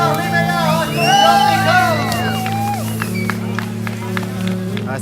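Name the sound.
crowd applauding and cheering the rally winners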